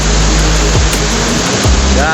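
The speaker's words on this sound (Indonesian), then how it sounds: "Kondisi angin dari air terjun semakin kencang ini" Wind and spray blow off a forest waterfall as a dense, loud rushing roar with gusty swells, and a voice is faintly present beneath it.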